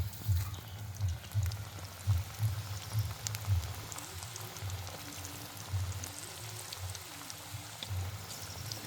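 Chickpea pakoda fritters deep-frying in oil during outdoor village cooking, a steady dense crackling sizzle with a low rumbling undertone, continuous throughout and no talking.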